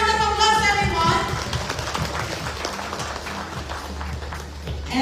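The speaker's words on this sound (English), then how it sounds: "Let's give her a round of applause, everyone." Graduation audience at a Trilogix electrical engineering ceremony applauding an honoree, a crowd's clapping under a speaker's amplified voice and some children's chatter, loud at the start and easing slightly.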